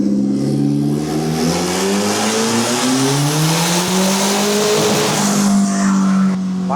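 A turbocharged Toyota Camry revs through a full-throttle pull, a loud engine note climbing steadily in pitch over several seconds, then dropping back near the end.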